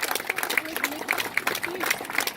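Applause from an audience at a campaign office opening in Columbia, SC, a dense patter of many hands under chatter and crowd noise, moderately loud throughout.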